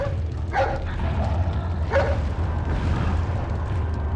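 A dog barks in Resident Evil 4, with two short barks near the start and around two seconds in, heard over a steady low game background rumble.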